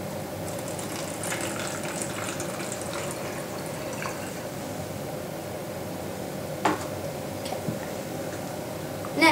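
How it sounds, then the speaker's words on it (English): Vinegar is poured into a cup for a homemade water bottle volcano, a soft, continuous trickle of liquid with a few faint clicks near the end. "first you're going to pour your vinegar into your cup"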